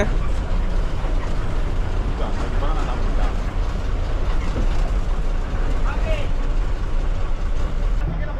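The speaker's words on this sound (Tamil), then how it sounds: "நம்ம பஸ் ஸ்டார்ட் பண்ணிட்டாங்க" A steady low rumble of a bus engine running throughout on a trip from Kilambakkam to Pondicherry, with faint muffled voices in the background.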